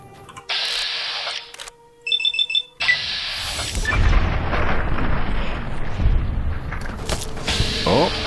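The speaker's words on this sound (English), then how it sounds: "Oh, they're shooting at me." Enemy gunfire and explosive booms in Fallout: Tale of Two Wastelands, with sharp shots and an alarm-like tone early, then a dense, sustained roar of firing and blasts filling the rest.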